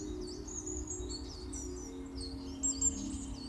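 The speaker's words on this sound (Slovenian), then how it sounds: "To so male ptičice, ki letajo" Small birds chirp and twitter steadily in a green coniferous forest, quick high calls overlapping at moderate distance over a low, constant drone, with no voices.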